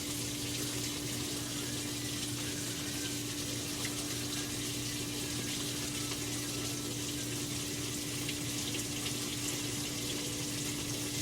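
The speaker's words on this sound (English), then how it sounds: "This one's filling with the warm water." A washing machine fills with warm water: a steady rush of water flowing in continuously, with a constant low mechanical hum underneath; no voices, just the even fill running throughout.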